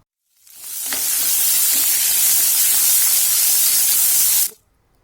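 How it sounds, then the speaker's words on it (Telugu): Cubed capsicum and peeled onion bulbs frying lightly in two spoons of hot oil give a loud, continuous hissing sizzle that swells in, holds steady for about four seconds, then cuts off abruptly, with no voices. "ఒక ప్యాన్లో 2 స్పూన్లు నూనె వేడి చేసుకొని క్యూబ్స్గా కట్ చేసుకున్న క్యాప్సికము, ఇంకా బల్బ్స్ లాగా ఒలిచిపెట్టుకున్న ఉల్లిపాయలు వేసి చాలా లైట్గా వేపుకోవాలి"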